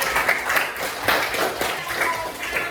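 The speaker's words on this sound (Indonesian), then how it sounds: "Bagus, tepuk tangan semuanya." A class of primary school children clapping together in a classroom, brisk uneven claps with a roughly regular pulse, close and moderately loud.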